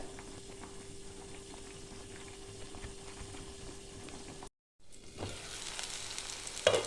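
Water spinach cooking in a covered pan, a low, even sizzle and faint bubbling that drops out briefly, then returns louder with a clatter near the end.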